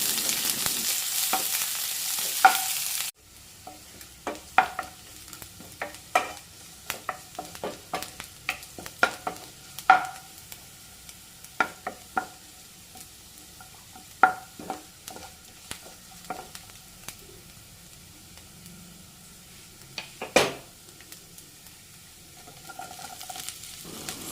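Thinly sliced onions sizzle in oil for a brinjal curry, with frequent sharp scrapes and taps of a spoon stirring the pan after a brief loud opening, steady frying hiss underneath.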